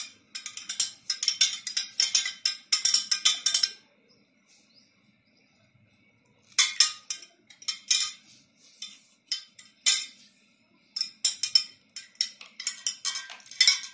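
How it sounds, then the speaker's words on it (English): A spoon stirs salt water in a glass, sounding as quick bright clinks against the glass in rapid bursts. The stirring pauses briefly, then resumes in irregular clusters of tapping, close and fairly quiet. "Now stir."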